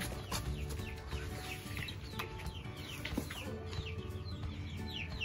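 Pedrês chickens clucking in a coop, a busy continuous mix of hen clucks and chirps with faint bird calls over steady low farm noise, no talk.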